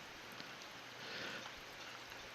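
Steady rain in the video game RuneScape Dragonwilds, a soft, even hiss of falling drops that continues for the whole stretch with no voices.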